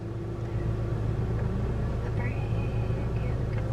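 A brand-new manual car pulling away in first gear: a low, steady engine rumble and drone from inside the cabin, with a thin rising whine partway through and voices faint underneath.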